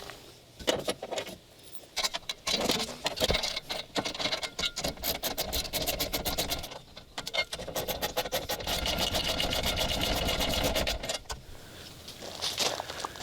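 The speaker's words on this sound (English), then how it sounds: "Let's finish up this row of bolts" A power tool works through a row of bolts on a homemade beach cart for pier or surf fishing, giving a continuous close buzzing whir broken by short pauses and brief clicks.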